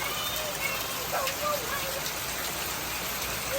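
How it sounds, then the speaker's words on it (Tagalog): Steady rain pours down in a dense, even hiss with soft patters, close and continuous, and faint voices in the background. "Grabe, maulan. Maulan maghapon."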